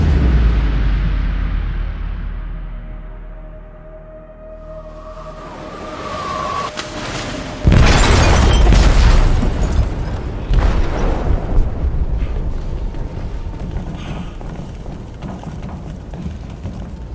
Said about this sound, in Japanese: 貨物室で爆弾が爆発しました。